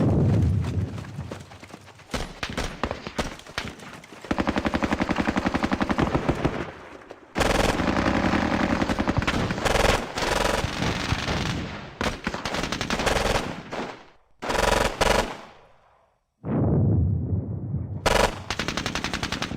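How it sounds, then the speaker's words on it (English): Mortar strike and gunfire from the war game Squad Battles Eagles Strike: dense bursts of rapid firing and heavy impacts come in long loud stretches, broken by short gaps and sudden cutoffs. "That was a beautiful mortar strike right there."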